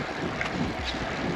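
Strong gusts of wind buffet the microphone during a long-distance cycling ride on a road in rainy weather, making a steady, loud rushing roar with no voices.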